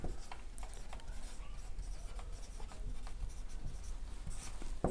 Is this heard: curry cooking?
no